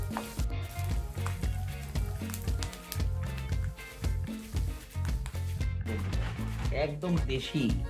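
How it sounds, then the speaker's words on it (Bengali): Homemade potato chips deep-frying slowly in oil, a continuous bubbling sizzle heard close, partly under a person talking. "আমরা ধীরে ধীরে ভাজতে থাকবো"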